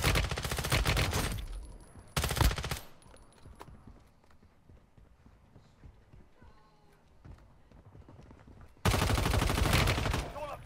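Video game gunfire in Warzone Mobile: loud bursts of rapid automatic fire open and close the stretch, with quieter scattered shots and faint game sounds in between.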